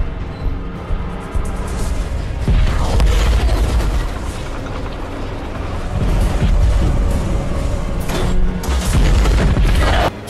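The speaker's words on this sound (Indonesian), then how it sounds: "kedua tank saling mengintai dan melepaskan tembakan." Heavy tank cannon blasts and booming explosions roll out repeatedly, loud and close, with rumbling debris and crashes between the big hits.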